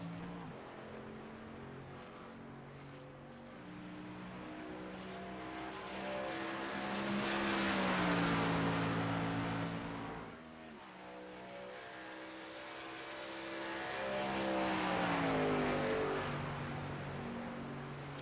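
A race truck engine in iRacing at Homestead Miami drones loudly as it laps, pitch rising and falling through the gears, swelling as it passes near and fading twice.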